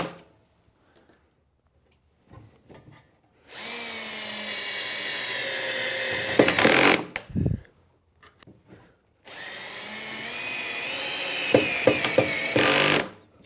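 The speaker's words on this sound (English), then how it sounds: "And then we'll just put in our pocket screws." A power drill drives pocket screws into a wooden frame board for a bathroom vanity, with two long loud whining bursts, each ending in a brief higher rev, separated by quiet pauses and small handling knocks.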